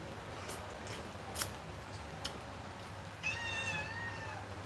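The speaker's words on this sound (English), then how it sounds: "The kitty is a pain in the you-know-what." A domestic cat gives a single faint, drawn-out meow near the end, preceded by a few quiet clicks and rustles against a low background hum.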